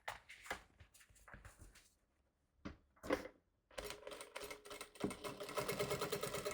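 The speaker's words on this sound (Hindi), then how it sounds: "यहाँ डबल सिलाई करते हैं, फिर यहाँ से टर्न करेंगे" A sewing machine runs a double line of stitching on a large homemade travel bag, whirring in bursts with short pauses, then settling into a steady, louder hum toward the end.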